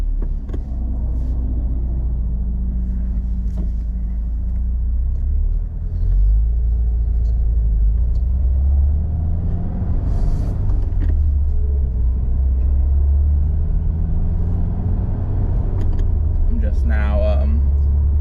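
A 2022 Subaru WRX driving through a neighborhood, its engine a low steady rumble with road noise heard from inside the cabin, fairly loud and continuous throughout.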